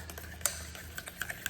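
Crepe batter being whisked after half a cup of milk is poured in, a series of quick light clicks and taps of utensil against bowl, faint and fairly close, with no voices.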